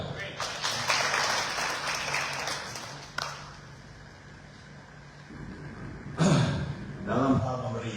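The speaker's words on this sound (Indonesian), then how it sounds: "Tepuk tangan untuk Tuhan." A congregation applauds during a church sermon, with broadband clapping filling the first three seconds, then fading into room noise before voices and speech return near the end.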